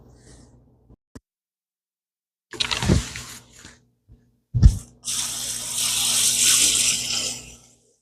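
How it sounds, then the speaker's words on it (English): Water pours into a bucket where ranunculus corms are soaking, a steady splashing rush that builds over several seconds after a few short bumps and knocks, close and with no talking. "More water is going to be added, and they're going to be soaked."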